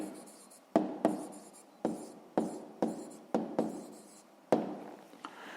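Pen strokes on paper while a sixth-grade maths answer is written out: a string of about eight sharp scratchy strokes, each starting with a crisp attack and trailing off, spaced roughly half a second apart, close and fairly quiet with no voice.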